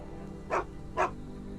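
Two short, separate dog barks from Sherlock Holmes The Awakened, heard in a New Orleans scene of the game. The barks come about half a second apart, at moderate distance, over a low steady background hum.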